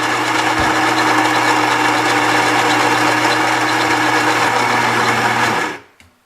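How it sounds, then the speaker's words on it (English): A Gaggia Brera super-automatic espresso machine grinds coffee beans with a loud, steady mechanical whir that holds for about five and a half seconds, then stops abruptly into near silence. "So first, grinding our beans."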